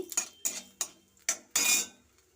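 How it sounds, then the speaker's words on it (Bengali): Whole dried red chillies and nigella seeds tempering in a pan, heard as five clattering metallic stirs and scrapes, the last longer and crackling, with no voices. "আমি গোটা শুন লঙ্কা নিয়েছি আর কালো জিরে নিয়েছি এটাকে আমি ফোড়ন দিচ্ছি"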